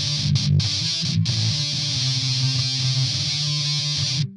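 Electric guitar driven through an MXR Fullbore Metal distortion pedal with the mids scooped, sustained heavy chords with a couple of brief breaks, loud and continuous, with no voices.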